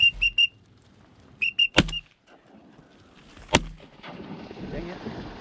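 A duck hunt, with two sharp, loud shotgun blasts a couple of seconds apart, preceded by short duck-call toots and followed by splashing and rustling in the marsh.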